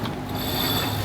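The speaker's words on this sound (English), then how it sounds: "Now we're pulling out the big Code Zero." Pulleys and furling lines on a performance catamaran unfurling a large Code Zero sail, a brief close whirring and clicking of running blocks with a steady mechanical drone.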